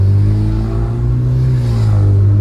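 A Hyundai Genesis Coupe engine holds a loud, steady rev close by, a droning whir that dips and rises slightly without a clear blow-off valve release; no talk.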